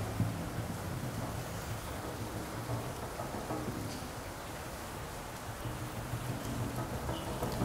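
Steady, dense rain falls at an abandoned sugar factory, a constant close wash of noise with low rumbling underneath and no talk.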